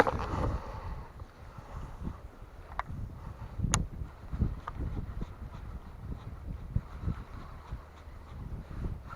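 Wind gusts buffet the microphone outdoors at a creek while fishing, a continuous low rumble with a few faint clicks and rustles.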